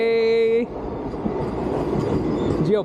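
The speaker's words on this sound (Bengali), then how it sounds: "আমাদের ট্রেন ঢুকে গেছে" Train pulling into a station: a loud horn-like tonal blast at the start, then steady rumbling rail noise with clattering and a rising squeal at the end.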